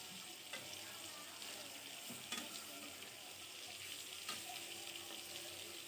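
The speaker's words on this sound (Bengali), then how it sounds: "বেগুন ভাজাগুলো হতে থাক" Eggplant slices frying in a pan, a quiet steady sizzle with a few sharp clicks of the slices being turned.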